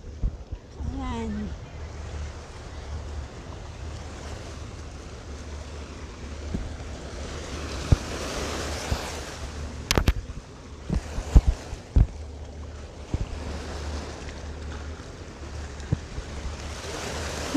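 Sea waves wash and rush steadily at Sandy Bay, heard from a bridge over the water, with wind buffeting the microphone and a few sharp knocks.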